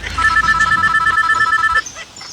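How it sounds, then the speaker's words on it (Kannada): A telephone ringtone beeps in a rapid, steady electronic pattern for nearly two seconds, then stops abruptly. The ring is clear and fairly close indoors, with no talking over it. "ಯಾರು ಫೋನ್ ಬತ್ತು"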